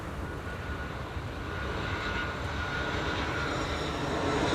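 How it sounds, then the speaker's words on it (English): A Transavia airliner arriving at Schiphol roars in a steady, broadband rumble that swells slightly louder over a few seconds as it approaches, with no voices over it. "Over here, Transavia is arriving."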